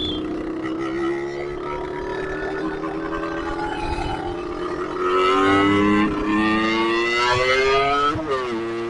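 A Yamaha RX-Z two-stroke motorcycle with a new spec and tuning revs loudly and close by, its buzzing engine note holding steady before climbing sharply through the final seconds.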